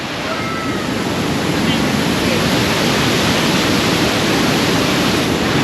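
Thundering cascade at Tad Kuang Si waterfall, Luang Prabang, where spray drifts over visitors; a loud, constant wash of water close by, with faint voices buried beneath the roar.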